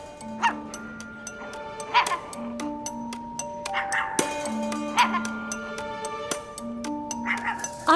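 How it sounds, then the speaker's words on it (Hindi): Small dog yipping and barking in repeated short bursts in a domestic scene, loud and close, mixed with music and background sound. "आपके इस कुत्ते की वजह से हम बात नहीं कर पा रहे।"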